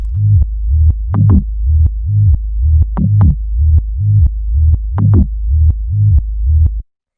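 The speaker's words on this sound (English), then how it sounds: "then we have the bass line, which is made up of two elements" A deep, pulsing electronic tech house bass line repeats in a steady groove with short percussive clicks on the beats, loud and alone until it cuts off.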